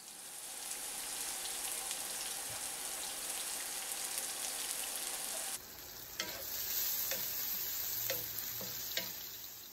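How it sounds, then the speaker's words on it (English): Sliced onions dropped into a pan of hot oil for a Bengali fish curry: an even sizzle that shifts to a crackling, spitting fry with scattered sharp pops and utensil taps, close up and without talk. "I'm going to add a little bit more oil. And then I'm going to drop in my sliced onions."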